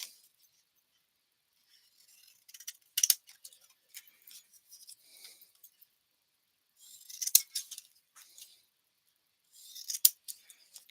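Scissors snip paper for a handmade card in short, crisp bursts of clipping, three main clusters spaced apart, quiet and close in an otherwise silent room.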